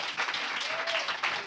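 Audience applause and cheering after a show-of-hands question about the total solar eclipse over the United States, Mexico and Québec, a short dense burst of clapping mixed with crowd noise and faint voices, fairly loud throughout.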